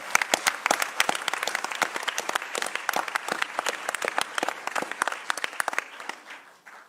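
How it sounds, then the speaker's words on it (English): A modest crowd gives a round of applause at a Charlotte gathering, with distinct individual claps standing out in an uneven patter that continues for several seconds before fading. "Let's give Nancy a round of applause"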